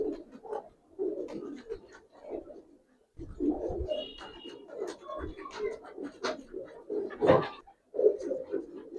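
Palla line Giribaz pigeons in a loft coo over and over in low, throaty bursts that fill most of the stretch, broken by a brief lull.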